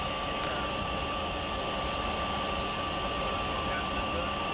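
Concorde's Rolls-Royce Olympus turbojet engines spinning up at start, a steady high whine with a constant roaring hiss, loud and unbroken from start to finish.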